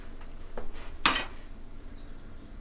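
A palette knife scrapes once across an oil pastel drawing of a bottle, a short, sharp, bright scratch in an otherwise quiet room.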